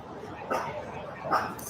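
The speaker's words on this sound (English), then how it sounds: "Hey, stop barking." A dog gives two short, faint barks about a second apart, quiet and somewhat distant against a low background.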